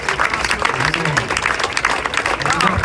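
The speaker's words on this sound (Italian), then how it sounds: "Un applauso ragazzi" Steady, dense applause from an audience at a live show, loud and continuous throughout, with a few voices mixed into the clapping.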